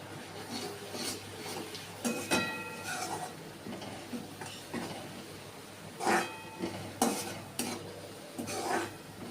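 Spice masala with tomato, turmeric and salt cooks in hot oil for a dry potato curry, giving a soft continuous sizzle broken by repeated scraping stirs of a spoon against the pan.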